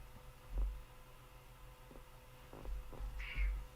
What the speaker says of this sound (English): My cat keeps meowing at me.